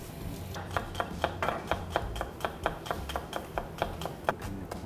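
A dull knife chops on a board in a quick, steady series of sharp taps, about a dozen strikes, close and fairly clear.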